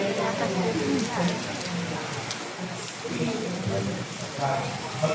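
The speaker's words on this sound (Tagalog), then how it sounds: "malakas talaga ulan" Steady heavy rain pattering on a surface, a constant dense hiss throughout, with people talking quietly underneath.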